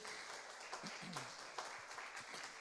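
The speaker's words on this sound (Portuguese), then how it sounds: "Dá uma forte salva de palmas ao nosso Deus Todo-Poderoso." A church congregation applauds God during a Portuguese-language worship service, giving a steady, dense wash of clapping that holds for a couple of seconds at moderate distance, with faint voices mixed in.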